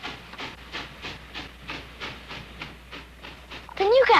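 A departing train chuffs out rhythmic steam puffs at a steady, even pace, clear and mid-distance, ending in a louder hissing burst as it leaves the station, with voices talking alongside.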